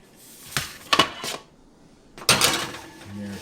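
A metal baking tray of plant-based snacks clatters as it slides into an oven, a few sharp metallic clanks and scrapes followed by a louder clunk, with faint background hum.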